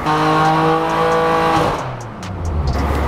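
A BMW M2 with a tuned S55 engine revs loudly on a dyno, holding a steady high-pitched drone before dropping off into a rougher, lower rumble near the end.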